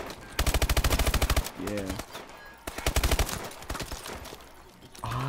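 Two loud bursts of rapid automatic gunfire in the Call of Duty Advanced Warfare campaign, each a dense rattle lasting about a second, with a brief voice and game noise between them.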